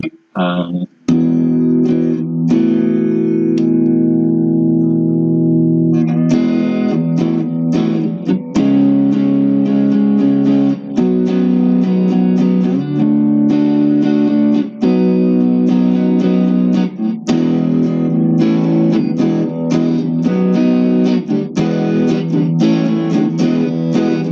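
Harley Benton T-style electric guitar through a Fender Deluxe Reverb vibrato channel, lightly crunchy at the edge of breakup, chords and single notes ringing steadily for the whole stretch.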